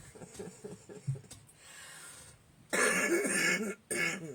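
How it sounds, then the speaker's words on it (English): A few short, harsh coughs near the mic, followed by a louder, longer burst of coughing and throat clearing, with quiet room tone between. "You have to pardon my cough."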